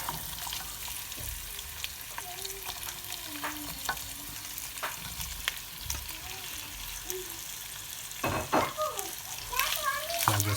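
Beef frying in a pan with salt, with a moderate sizzle under regular stirring scrapes and clatter; a voice and a child's chatter come and go in the background, growing busier near the end.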